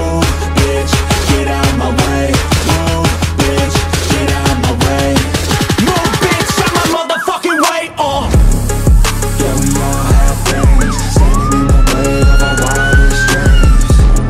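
A Federal Signal Valor siren on a Ford Explorer police vehicle sounds loud and close, switching through rapid pulsing yelp and warbling tones with a brief gap before resuming, and no talking.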